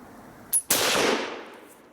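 A single sharp rifle shot from a rare 1889/96 Schmidt-Rubin firing original ammunition cracks out close and loud, preceded by a faint click and followed by a fading, reverberant tail, with no talk.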